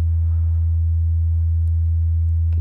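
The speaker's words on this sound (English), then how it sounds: "So we have our sine wave here. Not a whole lot of harmonics." Plain sine wave tone from an FXpansion Strobe synthesizer, a steady, pure low pitch held evenly and loud with almost no harmonics, alone.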